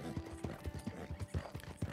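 Steady clip-clopping of horse hooves in the video game Red Dead Redemption II, a quick uneven rhythm of hollow knocks, fairly faint.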